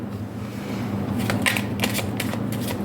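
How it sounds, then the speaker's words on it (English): Tarot cards laid down on a table, a series of quick flicking and slapping card sounds over a low steady hum, close and moderately loud. "I'm going to lay down all your cards before we begin the reading"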